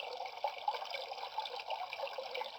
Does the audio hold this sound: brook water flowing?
yes